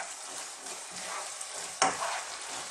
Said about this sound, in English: I am now going to go in with some nice sliced onion